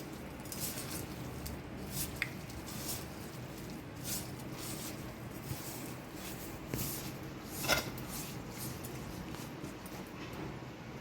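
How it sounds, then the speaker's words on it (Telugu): Minced mutton keema is mixed by hand with turmeric and salt, giving a soft, continuous rubbing and squishing sound with occasional wet slaps, close and quiet, with no talking. "ఈ మటన్ కేమాకి రుచికి తగినంతగా ఉప్పు వేసుకుని బాగా కలుపుకోవాలి"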